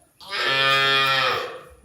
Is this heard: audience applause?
no